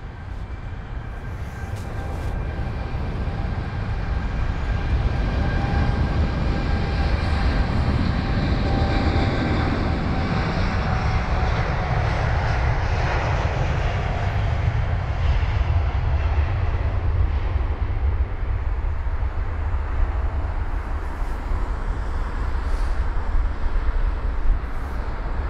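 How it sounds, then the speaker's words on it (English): A British Airways 787-9 Dreamliner departing Heathrow for Boston, a steady broad jet rumble that builds and then fades gradually, heard alone without talk. "So this is heading to Boston, the 779 Dreamliner with the flight number BA213."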